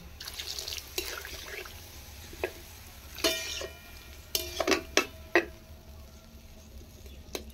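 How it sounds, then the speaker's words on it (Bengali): Water splashes into a pan of spices for a Bengali potato curry, several short drips and pours at close range, sharp splashes clustered near the middle and end over a faint kitchen hum. "আমি একটু জল দিয়ে দিলাম"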